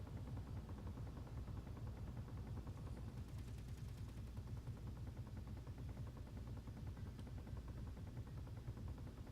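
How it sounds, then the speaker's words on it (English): Small turrets fire in a video game battle, a dense, continuous rattle of rapid shots with heavy low-end rumble, sustained and loud throughout with no pauses. "Our small turrets are shooting."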